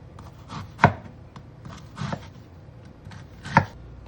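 A knife chops a medium yellow onion on a board, giving about three distinct, fairly close cuts spaced across a few seconds with quiet rustling between them and no talk.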